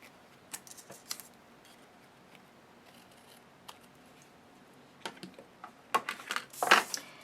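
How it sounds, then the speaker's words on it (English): Scissors trimming excess card paper during a card-making session, a few quiet snips and rustles early on, then sharper cutting sounds and paper handling near the end, close and faint in a quiet room. "And then I'll take my scissors and trim off the excess."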